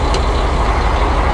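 A military lead vehicle's engine rumbles steadily at close range during a Swedish military simulation exercise, a dense, unbroken drone with no voices over it.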